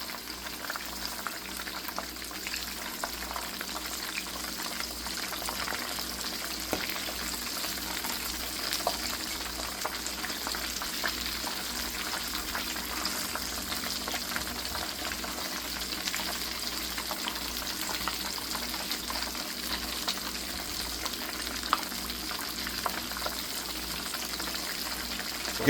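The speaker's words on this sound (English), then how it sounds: "We're going to fry about 4 at a time." Chicken empanadas with flaky homemade dough frying in oil, about four at a time, a soft, even bubbling sizzle that runs steadily with faint crackles and no talk.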